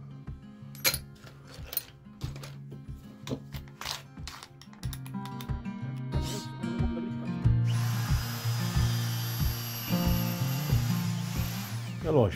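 A power drill with a size 8 bit bores into wood in a series of whirring bursts, close and moderately loud, ending in a longer steady run near the end.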